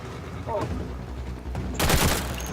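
Rapid gunfire bursts in the video game Warframe, a short crackle followed by a louder volley near the end, with players chatting over it.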